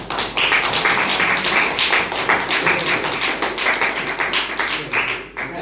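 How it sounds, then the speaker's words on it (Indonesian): Students in an Islamic cultural history class clap their hands together, a fairly loud, steady patter of many hands close by lasting several seconds. "Oke, tepuk tangan semuanya."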